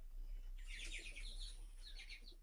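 Pet budgerigars give soft, high chirps in a short burst of quick tweets, faint and somewhat distant over a low background hum.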